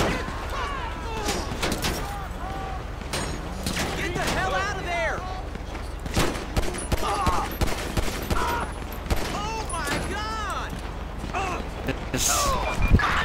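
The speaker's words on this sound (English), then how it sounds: "Okay, these guys are shooting at me." Gang members firing guns in GTA 5 on PC, with repeated sharp shots in rapid bursts across the whole stretch, some near and loud, mixed with game effects and someone talking over them.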